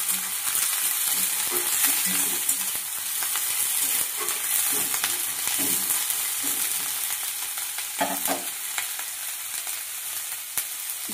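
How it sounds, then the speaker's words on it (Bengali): Onion, cauliflower and cabbage fry in a pan with a continuous close sizzle, while intermittent stirring scrapes and knocks of a spatula break through at irregular intervals. "এবারে এই ফুলকপি, বাঁধাকপি কেটে রেখেছিলাম, এটা দিয়ে দেবো। পেঁয়াজটাও ভাজা হবে, এগুলোও ভাজা হবে।"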